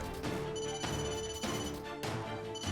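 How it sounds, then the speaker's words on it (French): A telephone rings in a home, with repeated bursts of ringing separated by short pauses, fairly faint and with no talk over it. "Ah, le téléphone sonne."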